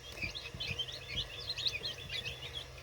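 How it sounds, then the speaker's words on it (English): Tiny white African guinea keets and other poultry chicks chirp in a brooder, a steady scatter of thin high peeps overlapping one another at a modest, close level. "So I currently have 3 different breeds of poultry in here."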